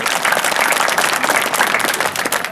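A crowd at a political gathering applauds Shoeb Khan, a former army officer, with dense, steady clapping that holds loud and continuous throughout.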